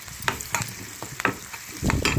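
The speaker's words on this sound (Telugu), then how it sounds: "వేగిపోయినప్పుడే కొంచెం అల్లం వెల్లుల్లి పేస్ట్ వేస్తాను" Ginger garlic paste frying with onions in a pan for a bendakaya tomato curry, a steady close sizzle broken by the scrape and knock of a spoon stirring every half second or so.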